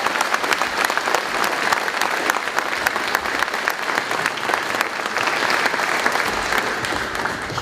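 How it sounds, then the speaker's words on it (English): Sustained audience applause at a 2022 high school graduation ceremony honoring retirees, dense steady clapping from a large crowd filling the hall without a break. "Let's give them a round of applause."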